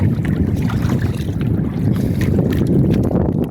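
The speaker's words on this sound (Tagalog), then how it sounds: "sobrang lakas ng hangin mga katemas, sobrang lakas ng hangin ng timog" Strong south wind buffets the microphone with a constant low roar, mixed with the rush of water and a fishing boat's motion at sea.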